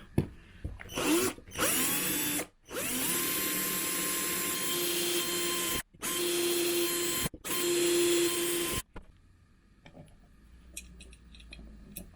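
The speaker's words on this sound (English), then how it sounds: "I'm just drilling up some holes in the box here" A power drill runs in several long whirring bursts separated by short pauses, drilling holes in a retro radio kit's box, loud and close, followed by quiet handling noises.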